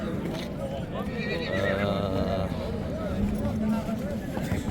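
Horses whinny at the Solomo livestock market in Ala-Buka district, a drawn-out neigh rising mid-clip over a steady crowd murmur, with hoof clops and someone talking throughout.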